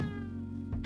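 A cat meows once in a drawn-out, tonal cry close by, ending with a short noisy burst, heard alone without talk.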